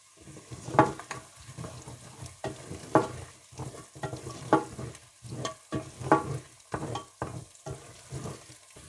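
Spices and dried lemon for Arabian chicken mandi fry in a pot, stirred in repeated close scraping strokes over a soft, steady sizzle, with no voices.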